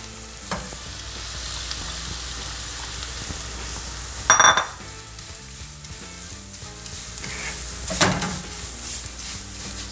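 Anchovies fry in oil with garlic, giving a steady close sizzle broken by two brief louder clatters of stirring in the pan.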